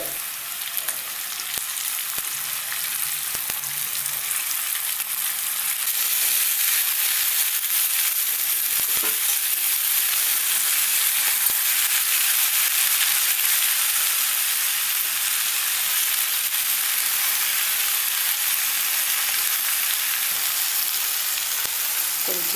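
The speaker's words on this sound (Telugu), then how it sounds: "ఇప్పుడు మనం తరిగి పెట్టుకున్న గోంగూర బచ్చల కూరను వేస్తున్నామండి." Chopped gongura and spinach greens frying in a pan, a steady, loud sizzle and crackle that swells after a few seconds and holds evenly throughout with no talking.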